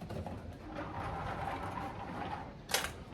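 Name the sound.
vintage 1972 Nishijin pachinko machine being plugged in and powering on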